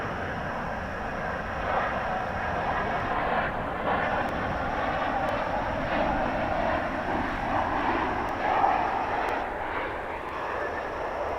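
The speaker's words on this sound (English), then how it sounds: "So we've got a flight coming in from Burbank, flight 2599, 737-800." A Boeing 737-800 arriving from Burbank at DFW Airport roars overhead, a loud sustained broadband jet engine rumble and whine that holds steady with a slight swell, heard alone outdoors.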